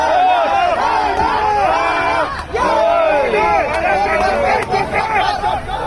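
A Pakistan cricket crowd at the Hong Kong Cricket Sixes roars and chants continuously, a dense wall of many voices with rising cheers, full and close throughout.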